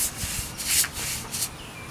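Hand sanding of a wooden dining table after pre-stain, with several short rubbing strokes in quick bursts, close and fairly loud with no talk.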